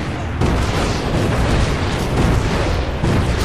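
Gunfire in a video game, dense booming shots and explosions packed together loudly and continuously for a few seconds.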